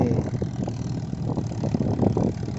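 A Ford 6610 tractor engine runs nearby with a steady mid-pitched throb and irregular pulsing knocks, continuous and fairly loud throughout.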